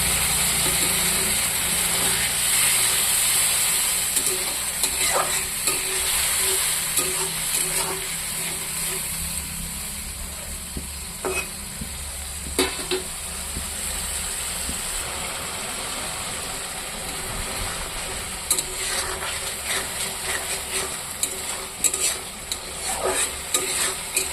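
Tengra fish frying dry in a pan with masala paste, green chili and cumin, a steady close sizzle with scattered stirring clicks and scrapes throughout.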